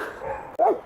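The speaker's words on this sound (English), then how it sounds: "if you can hear me over barking" A single short dog bark sounds close by after a moment of low background noise.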